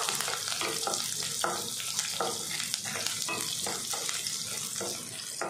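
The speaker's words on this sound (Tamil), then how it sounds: "வெங்காயம் பூண்டு நல்லா வதங்கி வரட்டும்" Shallots and garlic frying in hot oil for a Tamil stingray fish kuzhambu, a steady soft sizzle crackling underneath with irregular scrapes as the pan is stirred.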